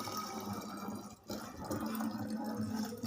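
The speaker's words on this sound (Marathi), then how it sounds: "याच्या बॉटलमध्ये मी पाणी टाकत आहे." Water poured into a bottle, a steady splashing trickle that runs close and fairly loud for about three seconds with only a brief dip partway through.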